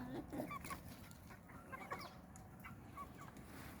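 Chickens cluck in a backyard flock of Turkish fowl, several short clucks and calls scattered through the clip at moderate distance over faint background noise.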